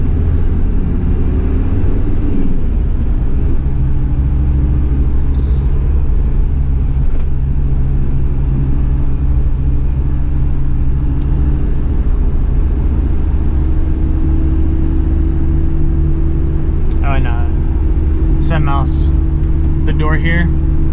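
A 1991 Toyota Land Cruiser PZJ70 diesel 4x4 cruising on a highway, heard from inside as a steady, loud low engine drone and road rumble throughout, with someone talking over it.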